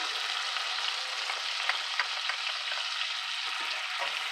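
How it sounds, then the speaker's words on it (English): Onions go into a hot pan and fry with a continuous bright, hissing sizzle, heard up close and fairly even, with a few faint crackles and no voices. "so we're going to add our onion"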